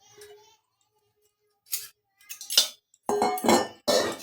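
Newly bought cooking pots, a kadai among them, clink and clatter in short separate bursts as they are handled. Quiet gaps fall between the knocks.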